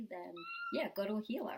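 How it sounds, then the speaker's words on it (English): A cat gives a short meow close by, overlapping a person speaking calmly. "Oh, that's my cat again."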